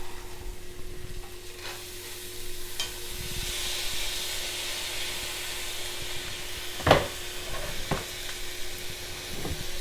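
Barley being stirred with onions in a cooking pot for a vegan barley, coconut and bean dinner: a soft continuous sizzle with scraping stirs, a sharper utensil knock near the end, no voices.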